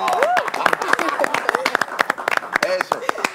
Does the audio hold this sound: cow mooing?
no